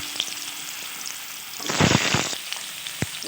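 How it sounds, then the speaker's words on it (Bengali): Cut potato pieces dropped into hot oil for basmati rice muri ghonto, a soft sizzle that surges into a loud crackling burst midway, then settles back with a brief clink near the end. "এবার ওই তেলে দিয়ে দিচ্ছি টুকরো করে রাখা আলুগুলো খুব ভালোভাবে এই তেলে ভেজে নেব।"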